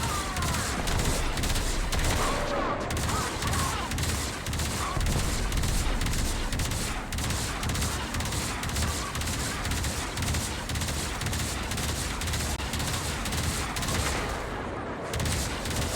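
Dense, rapid gunfire from a Railjack ship's gun in the game Warframe, loud and nearly unbroken for the whole stretch, with overlapping bursts and booms forming a steady roar.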